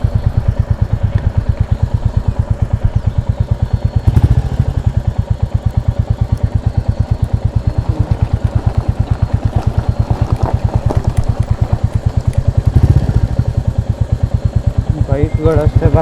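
Motorcycle on a solo ride in Uttar Karnataka, its engine thumping in a fast, even pulse throughout, near and loud, with someone talking over it.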